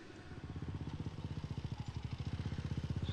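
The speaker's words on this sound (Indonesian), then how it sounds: "Suara motor siapa, Gun?" A motorcycle engine approaches at a steady, pulsing throb that grows louder and closer over a few seconds, its rhythmic putter dominating an otherwise quiet scene in an Indonesian horror film.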